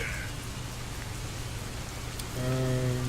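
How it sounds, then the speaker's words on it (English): Steady rain sound effect hissing in the background, continuous and moderately loud, with a brief low tonal hum joining near the end. "I'll put some rain in here in the background"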